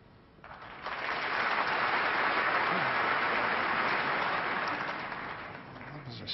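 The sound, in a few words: snooker crowd applauding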